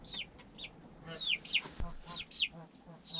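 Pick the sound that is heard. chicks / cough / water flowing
chicks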